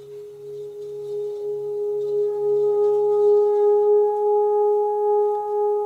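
A singing bowl hums with a sustained, pure ringing tone that swells and wavers gently, a steady pulsing shimmer lasting throughout.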